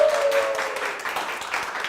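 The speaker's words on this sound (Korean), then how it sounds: "박수 한번 부탁드릴게요." Brief applause from an audience of teachers at an educational magic show, a short burst of moderate clapping that holds steady for a couple of seconds, with a faint tone at the start.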